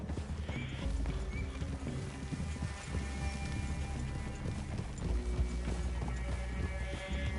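Several horses walk along a forest clearing, their hooves clip-clopping in an uneven, overlapping rhythm at moderate distance, with occasional snorts and rustling and no talk.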